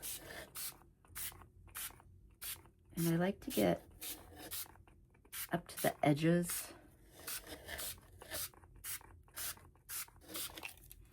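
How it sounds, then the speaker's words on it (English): Quick bursts from a spray bottle repeat in a steady rhythm, about once every second, while a person talks now and then between the sprays. "I'm gonna go ahead and start spraying this with the spray."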